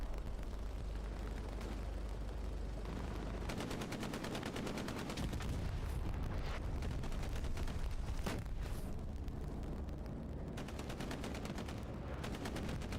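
Heavy booming and rapid firing in the World War II game Hell Let Loose, with deep rumbling artillery impacts under continuous machine-gun rattle, loud and sustained.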